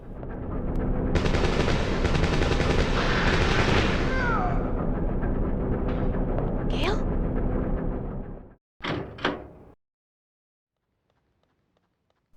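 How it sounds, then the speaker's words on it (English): Sustained rapid gunfire with explosive bursts in the video game Dino Crisis rattles for about eight seconds, then cuts off to a couple of short bursts and near silence. "you hear gunfire from outside"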